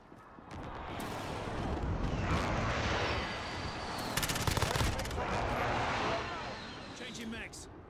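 Airstrike explosions in the Call of Duty: Modern Warfare video game form a steady, dense roar of blasts and rapid gunfire, with a sharper burst of crackling impacts midway, loud and continuous throughout.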